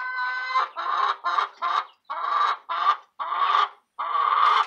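Hens cluck close by in a string of about eight short, nasal calls with brief gaps between them.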